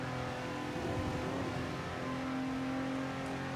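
A Nissan 370Z Nismo engine hums and revs from inside the moving car, a steady, moderately loud drone with slight rises in pitch.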